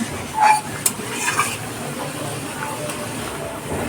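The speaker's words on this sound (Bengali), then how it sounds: "বড়াগুলো ঢেলে দিচ্ছি।" Taro koftas tumble into simmering gravy in a pan with a few soft clunks and wet plops, followed by gentle bubbling, light utensil scraping and a low sizzle, fairly close, with no speech.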